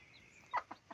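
A hen gives a few short, soft clucks close by, spaced unevenly against quiet background hiss.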